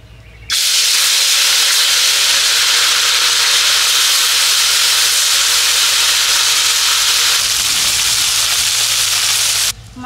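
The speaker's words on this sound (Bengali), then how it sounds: "মাছ ভাজা হচ্ছে" Small mourala fish sizzle loudly in hot mustard oil in a kadai, a steady dense frying hiss that starts abruptly and runs for about nine seconds before cutting off.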